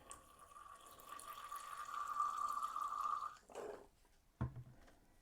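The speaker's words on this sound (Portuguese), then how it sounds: "Mas observe o que acontece quando nós adicionamos nesse sistema água." Water poured onto solid sodium chloride in a chemistry conductivity experiment, a steady trickle of liquid for about three seconds, then a brief splash and a sharp knock near the end, with no speech.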